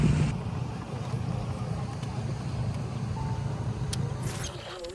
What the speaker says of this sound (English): we took a long wooden boat along the river back to the base